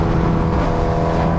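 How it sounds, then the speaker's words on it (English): A Kawasaki Ninja H2R motorcycle engine roars loud and close, holding a steady high-rev drone with a strong tonal hum throughout the short burst. "This bike sounds insane."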